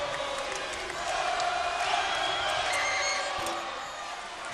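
Crowd noise fills a college basketball arena during a Gonzaga game at Loyola Marymount, a steady broad roar of spectators that swells slightly in the middle, with no clear voices standing out.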